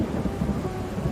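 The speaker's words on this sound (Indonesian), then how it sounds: "di tengah hujan badai petir" Thunderstorm with rolling thunder and steady rain, heard as a dense, continuous low rumble with rain noise throughout, loud and close, no voices present.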